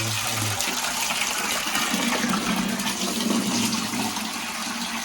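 Groundwater from a solar-powered well pump gushes from its outlet in a steady, loud, continuous rush that fills the whole stretch. No talk is heard over the flow.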